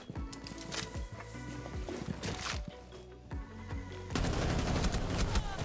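Rapid automatic fire from a new weapon in the video game Rainbow Six Siege: repeated sharp, punchy bursts in a steady quick rhythm, loud and upfront with no talking.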